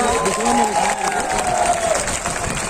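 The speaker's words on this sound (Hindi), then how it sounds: "जोरदार ताली बजा के इनका स्वागत करिए।" A political rally crowd in Uttar Pradesh bursts into sustained, dense applause and cheering, with clapping filling the whole stretch and a voice blending in beneath.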